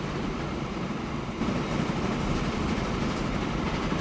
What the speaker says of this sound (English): Alright, so the train's coming back. You see, he's hauling ass.